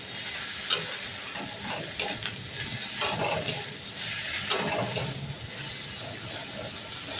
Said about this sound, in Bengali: ঢেঁড়সটা একটু ভাজা হোক